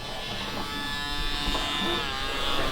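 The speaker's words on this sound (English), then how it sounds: "So this is a kid's version of the Dyson vacuum." A kid's toy version of a Dyson vacuum cleaner running steadily as a close, constant, bright electric buzz and whine that holds level throughout.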